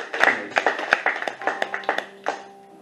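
A church congregation at a seminar applauding to acclaim the Lord for an evangelist: a run of quick, fairly close hand claps and taps in an uneven rhythm that thins out toward the end.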